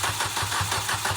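A car engine with the exhaust removed and chocolate in place of its oil cranks over on the starter. It makes a rhythmic, loud chugging pulse of about six even beats that repeats steadily without catching.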